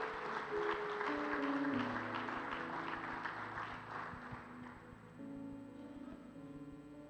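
A church congregation applauds the Lord during a festive service, a sustained round of clapping with sustained musical tones underneath, moderately quiet and gradually easing.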